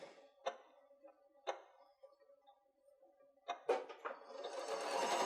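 Sewing machine stitching a locking stitch on fabric for an autumn bucket, short bursts of rapid needle clatter separated by pauses, close and moderately loud, ending in a longer run of stitching.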